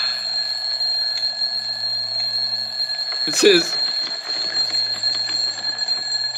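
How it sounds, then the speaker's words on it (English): A small alarm clock given as a wedding gift rings in a brief loud burst midway, over a steady tonal background hum with people talking. "he bought them a clock, a little alarm clock"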